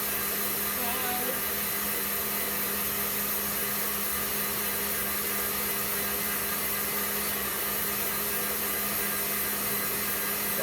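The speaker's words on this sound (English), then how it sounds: "You want to whisk this until stiff peaks are formed." An electric mixer whisks meringue toward stiff peaks with a steady, loud, unbroken motor whir that holds at an even level throughout.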